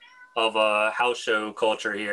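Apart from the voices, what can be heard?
cat meowing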